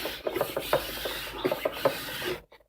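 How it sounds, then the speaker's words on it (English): A medium 400-grit diamond file rasps along a ski edge during hand sharpening, a series of short close scraping strokes in an uneven rhythm, about a dozen rubs before stopping into silence. "Next, take my diamond file. This is just a medium diamond file."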